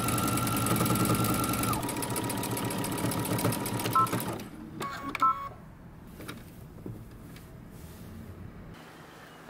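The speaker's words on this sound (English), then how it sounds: "we're going to backstitch and stitch following our stitching line" A sewing machine runs in a fast, steady stitching burst while backstitching and sewing a jumper, then stops, leaving a few faint clicks and handling sounds in near silence.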